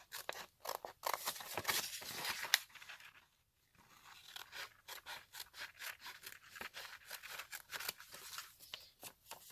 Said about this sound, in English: I'm just going to take my scissors that I have here handy on the desk, cut one out